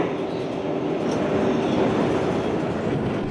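A New York subway train rumbles at Court Square station, a steady, close, continuous roar of wheels and carriages with faint rattling throughout.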